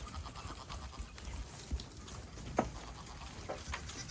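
Faint goat bleats come through a quiet, rustling background, a few short calls scattered here and there.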